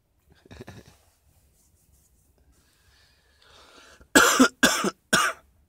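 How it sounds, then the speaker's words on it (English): Three sharp, close coughs from a lingering cough in quick succession near the end, inside an old VW bus, preceded by a soft throat-clearing rasp and quiet rustling. "I myself have still a lingering cough."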